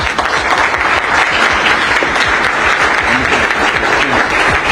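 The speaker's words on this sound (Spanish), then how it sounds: "Un aplauso, por favor." A crowd applauds loudly at a ceremony in Costa Rica where President Bukele is decorated, a thick, continuous roar of clapping that holds steady throughout.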